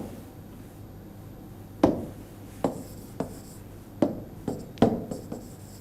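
An eraser scrubs writing off a board in a handful of short, scuffing strokes with small knocks, close by and fairly quiet, with no voices.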